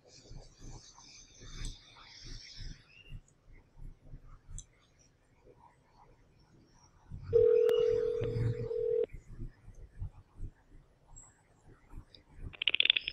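A telephone call is placed to NASA media resources: faint whispered talk over low rhythmic tapping, then a loud steady tone for about two seconds, followed by softer noises and a brief bright beep near the end.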